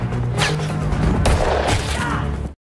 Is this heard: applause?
no